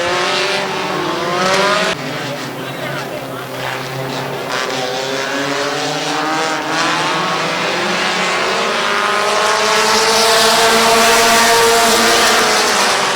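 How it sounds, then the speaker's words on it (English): Stock cars roar around a speedway right after a turn-3 spin-out, engines loud and continuous, swelling and sweeping past with rising pitch near the end; no talking. "Wise into turn 3, gets into Savannah Alm and spins her out in turn 3."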